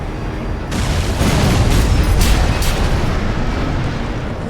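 A sub-generator blows up in the mech combat game Armored Core VI: a loud, deep, rumbling explosion that hits suddenly and stays heavy for several seconds, with a few sharper bursts inside it and no voices.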